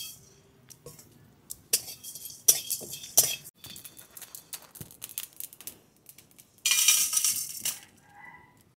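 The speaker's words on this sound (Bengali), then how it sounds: "শুকনো কড়াইতে গরম মশলা, জিরে, ধনে, গোলমরিচ ভেজে নেব।" Garam masala, cumin, coriander and black pepper dry-roasted in a dry pan, heard as scattered close clinks and rattles, building to a louder stretch of scraping near the end.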